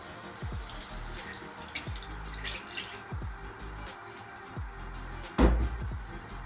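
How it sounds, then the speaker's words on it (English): Water going into a pot of mackerel while cooking spicy fish sauce: gentle splashes and drips in short pulses, close and fairly quiet, with one heavier splash near the end. "I'm going to add a little bit of water to this."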